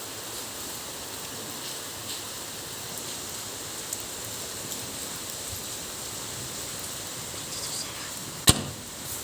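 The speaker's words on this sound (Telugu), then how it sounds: "చాలా వర్షం పడుతుంది" Heavy rain pours steadily in Mahabubnagar as a dense, even hiss with no letup, broken once by a sharp knock near the end.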